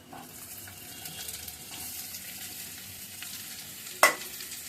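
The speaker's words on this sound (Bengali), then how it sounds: "রসুন পেঁয়াজটা একটু ভাজা ভাজা হয়ে গেছে, এবার কি করবো, আলুগুলো ছেড়ে দেবো" Potatoes dropped into hot oil with browned garlic and onion give a steady low sizzle and stirring scrape, with one sharp clatter near the end, close and quiet, no voices.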